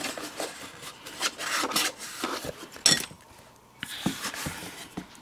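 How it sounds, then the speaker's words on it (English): A bone folder burnishes chipboard for an accordion folio, giving repeated dry rasping rubs in quick strokes, close and fairly loud, with brief pauses between passes. "we would like to burnish it, maybe get your bone folding tool in there"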